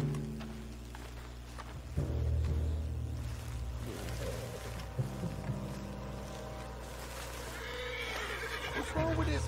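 In the Red Dead Redemption 2 video game, a horse lets out a loud, drawn-out neigh and whinny over hoofbeats and outdoor ambience, with voices murmuring underneath.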